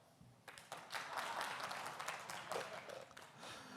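A conference audience at a security talk breaks into applause, a steady wash of many hands clapping for a few seconds, heard from the stage at moderate level.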